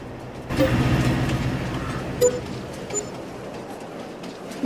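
Train rolling on rails in the farming game Farming Simulator 22, a steady low rumble with a couple of faint metallic clanks, continuous and moderate in level, without speech.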